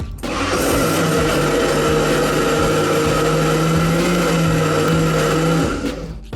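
A countertop blender whirs loudly and steadily for about five seconds, mixing mango puree, sugar and yogurt into a mango lassi, then spins down to a stop.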